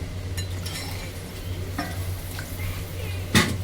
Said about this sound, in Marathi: आता आपण हे व्यवस्थित हलवून घेऊ